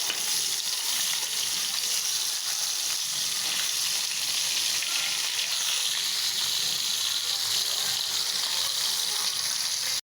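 Turmeric, chili and salt sautéing in a pan, a loud, dense, continuous sizzle and hiss close up, unbroken until an abrupt stop at the end.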